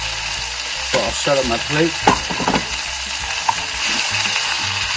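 Spinach and garlic sauté together in a hot pan beside a halibut dish, giving a steady close sizzle that runs under a man's speech.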